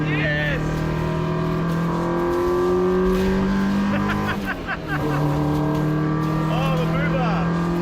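A Honda Civic VTEC engine in a car racing game climbs through rising, whining revs, steady and loud, with a brief dip as it shifts before climbing again. Voices talk excitedly over it.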